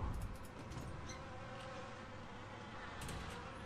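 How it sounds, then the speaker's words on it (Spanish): Flies buzzing in the horror game Obscuritas: a continuous faint swarm drone with wavering wingbeat tones, steady throughout with no talk. "un montón de moscas. Moscas everywhere."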